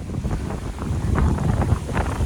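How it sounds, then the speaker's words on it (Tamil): Strong wind gusts through coconut palms, a loud, continuous rushing roar with buffeting bursts against the microphone and no voices. "அந்தளவுக்கு காற்று வீசுண்டு"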